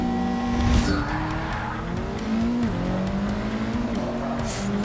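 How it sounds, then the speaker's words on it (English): A 2017 Ford Focus RS with a 580 hp drag build screams near redline in Forza 6, a loud continuous engine whine with pitch shifts at gear changes and tire squeal over steady road noise. "I'm redlining the shit out of this car."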